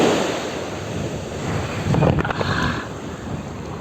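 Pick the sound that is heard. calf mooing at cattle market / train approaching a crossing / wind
wind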